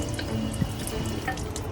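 A drinking-water tap runs steadily outdoors at the Sheikh Zayed Grand Mosque in Abu Dhabi, a continuous close splashing trickle with small drips, heard alone.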